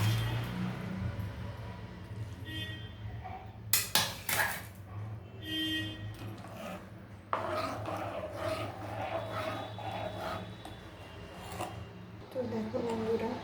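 Half-boiled rice tipped into milk in a cooking pot brings a few sharp clatters and scrapes of pot and utensil, then a softer bubbling stir, with someone talking over parts of it.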